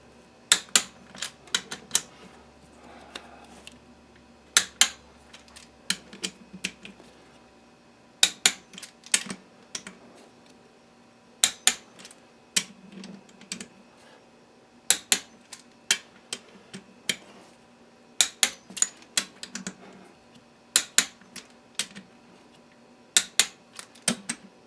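Torque wrench clicking on the bottom end bolts of a Kawasaki 750 two-stroke triple, sharp mechanical clicks in quick clusters of two to four, repeating every few seconds against a quiet background.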